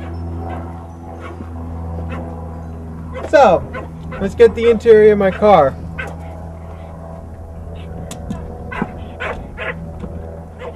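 A dog barks and whimpers close by in a rundown home interior, a short burst of yips and barks in the middle while someone talks over a low background hum.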